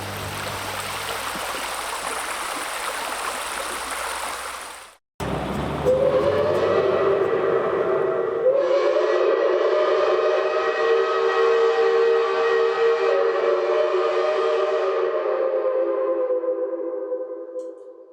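A steam-powered train whistle blows long and loud with sustained tonal blasts over the rumbling chug of the engine, following a stretch of broad steady noise that cuts off abruptly.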